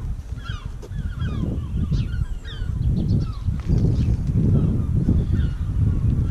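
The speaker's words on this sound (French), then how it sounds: "entendez les mouettes. C'est plutôt les goélands." Gulls call near the sea, with repeated squawking cries, some close and some farther off, over a constant low rumble of wind or surf.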